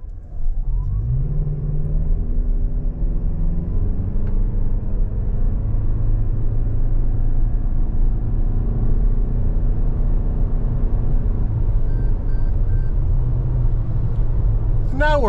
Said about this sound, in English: You're just going to get some wind noise and get that road noise out of these all-terrain tires